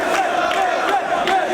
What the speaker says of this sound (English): And the crowd in Manhattan appreciates it.